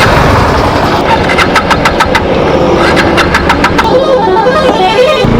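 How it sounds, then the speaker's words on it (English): A Bajaj Dominar motorcycle engine on the highway, loud and close with a steady throbbing drone and rapid rhythmic pulses rising and falling as it runs. "for the first time I'm riding it on the highway"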